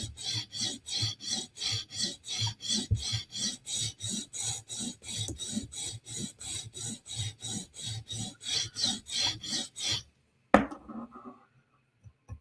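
A Spyderco knife blade is drawn across a sharpening stone in a steady run of about two dozen evenly spaced rasping strokes, close and alone, ending in a sharp knock and a few faint taps.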